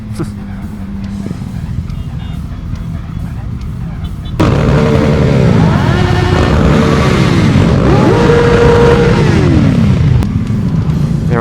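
Loud motorcycle engines rev and roar nearby at a large group ride, several bikes blipping throttles in overlapping bursts after a quieter idling start, with a shout partway through.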